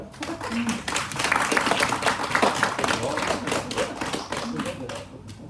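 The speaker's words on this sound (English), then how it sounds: "a round of applause" Audience at a launch event for a virtual walk clapping after a presentation, a sustained round of applause with distinct individual hand claps, some voices mixed in.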